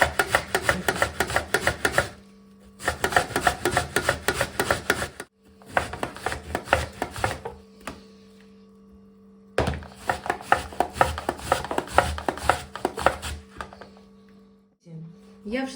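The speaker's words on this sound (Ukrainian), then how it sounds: "Натираємо з вами зараз кабачки на саму дрібну тертушку" Zucchini is rubbed against a fine grater in quick rasping strokes, coming in bursts with short pauses, close by over a faint low hum.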